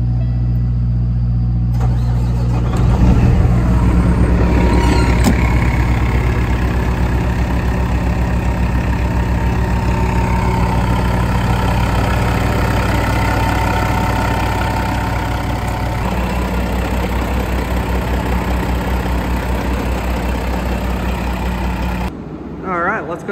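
Detroit Diesel engine idling in a 2007 Peterbilt 379 truck inside a shop, starting up and settling into a loud, steady low rumble that continues close up throughout.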